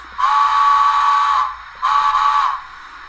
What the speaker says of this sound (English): Now this is where we can blow our whistle and ring the bell.